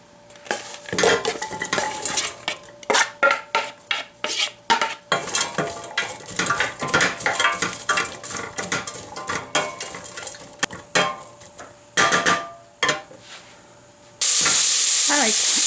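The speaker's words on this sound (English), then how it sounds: "And then I'm going to add the turkey gizzard and the turkey neck and the turkey" A turkey gizzard and neck go into a pot for stock, with rapid clanking and scraping of metal and utensils and a soft sizzle beneath, ending in a burst of steady noise.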